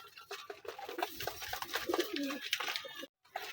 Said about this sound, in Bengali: এই কবুতরটি কালকে এসেছে